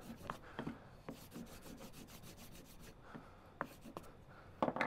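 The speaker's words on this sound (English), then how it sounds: "we're just going to rub this over the edge" A leather strop loaded with polishing compound is rubbed back and forth over an axe edge, giving a soft, faint, steady scraping with a few sharper strokes near the end.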